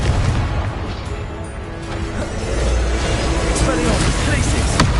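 Confringo, a fire spell from Hogwarts Legacy, blasts during a spell fight, giving loud, rumbling bursts over a thick wash of combat noise with a few crisp cracks late on.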